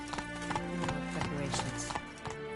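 Horse hooves clip-clop in a rapid, regular rhythm while riding the horse in The Witcher 3: Blood and Wine, with game music and ambience underneath and faint talk.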